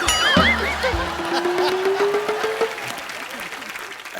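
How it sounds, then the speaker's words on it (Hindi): Steady studio audience applause at a comedy show continues throughout, a dense bed of clapping with whoops and cheering voices and a sustained tone riding on top. "तालियां बजती रहनी चाहिए"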